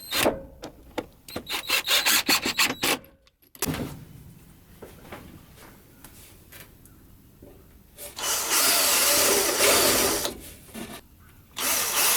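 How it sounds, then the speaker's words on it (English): Bursts of power-tool noise, a choppy run of short pulses then a steady loud whir, a drill boring into wood for a van drawer, with quieter gaps between. "drill into there, and then drill into there"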